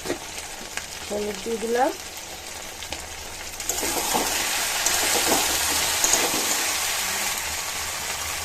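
Pumpkin frying in hot oil with spices, turmeric and dried red chillies tempered in, giving a loud steady sizzle that swells after a few seconds, with stirring scrapes and someone speaking briefly at the start.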